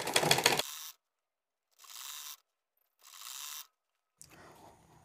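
A sewing machine stitches elastic onto a salwar in short separate runs: a loud rapid clatter, then two quieter bursts of about half a second each with silent pauses between, and a faint mechanical rattle at the end.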